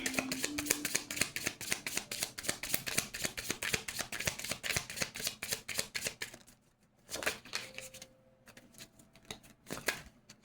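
Oracle cards riffle in a rapid, close, papery flutter of dense rhythmic flicks for about six seconds, then a few slower, quieter card slides and taps after a pause.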